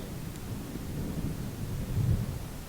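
Low, continuous rumbling of distant thunder with a steady wash of rain, swelling slightly toward the end.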